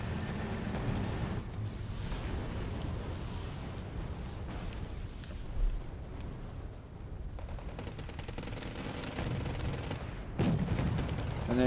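Dense rumbling cluster artillery barrage in the Wargame Red Dragon video game, a continuous roar of overlapping blasts and crackling detonations throughout, steady and fairly loud with no voices.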